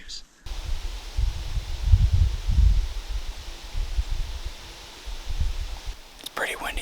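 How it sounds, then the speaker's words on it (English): Strong wind gusts buffet an open mountain slope in Colorado during an afternoon archery elk hunt, a steady low rushing roar with swelling gusts that drops away briefly near the end. "It's pretty windy this afternoon."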